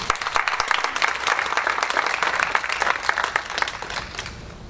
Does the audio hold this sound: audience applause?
yes